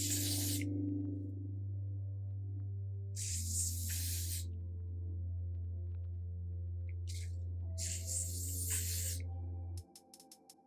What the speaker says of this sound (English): I'm gonna go in with the Ebin Wonder Lace Bond Spray.